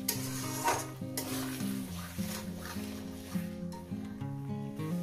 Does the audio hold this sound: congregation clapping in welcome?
no